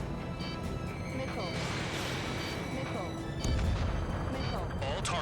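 Missile explosions in the combat flight game Ace Combat 7 form a dense, loud, continuous rumble of overlapping blasts, with voices in the mix.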